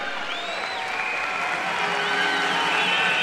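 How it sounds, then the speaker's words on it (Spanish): An arena audience at the Miss Venezuela 2005 pageant gives loud sustained applause, a dense continuous wash of clapping and crowd noise that holds steady throughout. "El poliedro las apoya con un aplauso fuerte."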